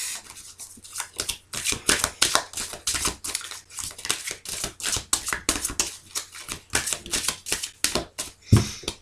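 Tarot cards are drawn and laid down one after another, a dense run of crisp papery flicks, slaps and shuffles at close range that goes on steadily without talk.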